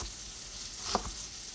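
Vegetables popping and sizzling in a frying pan for a pasta salad, a soft steady sizzle with one sharp pop near the middle, close and quiet.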